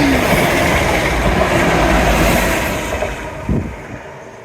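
A loud train rushes past close by with a steady roaring rumble that gradually fades, ending with a brief clank.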